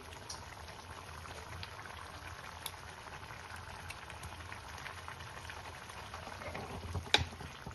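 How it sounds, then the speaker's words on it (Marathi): Palak paneer gravy bubbling in a pot on the stove, a steady soft simmering hiss with faint pops throughout and one sharper burst near the end, close and fairly quiet with no talking. "आता याला थोडासा बॉईल होऊ देऊया, 1-2 उकडी येऊ देऊ"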